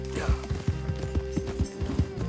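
Horse galloping in Red Dead Redemption 2, rapid rhythmic hoofbeats thudding in quick succession, close and fairly loud, with a steady tone running underneath.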